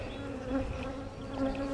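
Honey bees buzzing steadily at close range while a hive is opened for inspection, a continuous droning hum with shifting tones and no talking.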